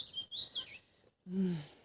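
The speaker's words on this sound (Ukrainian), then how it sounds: "Пташки співають" Small birds chirp and tweet in a rural vegetable garden, with bright, short high calls in bursts, a brief pause, then a lower, fuller call toward the end, fairly close and moderately loud.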